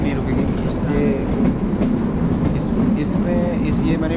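Kalka–Shimla toy train, the Himalayan Queen, running steadily on its mountain narrow-gauge tracks, with a continuous rumble and rhythmic clickety-clack heard from inside the carriage, fairly close and unbroken.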